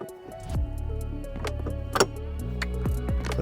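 A JQWerks quick-release steering wheel hub on an F80 BMW M3 snaps into place with a few small, close clicks over quiet background music.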